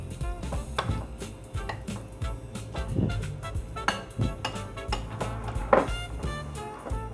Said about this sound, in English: Mix it thoroughly.